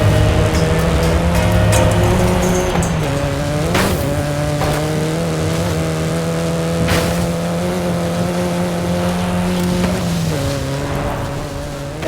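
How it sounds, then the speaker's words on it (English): A car in a battle royale video game drives at steady engine pitch with tire squeals and a few sharp revving surges, loud and continuous with no talk. "I see a car coming towards me."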